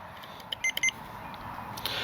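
RC plane flight timer on a FMS Skylane Cessna 182 setup, a few short electronic beeps in a quick cluster, faint over steady outdoor background noise.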